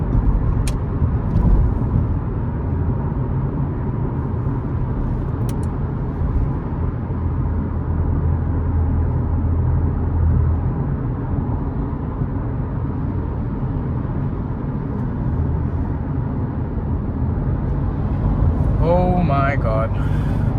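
Big lorries pass along a UK road, heard from inside a moving car. There is a steady, loud low rumble of engines and tyres throughout, and a voice briefly exclaims near the end.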